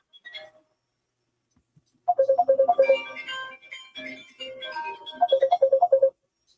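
A phone line rings in on a live village call-in radio broadcast, a bright repeating electronic ringtone jingle in two clear bursts with a short melodic passage between, loud and without talk.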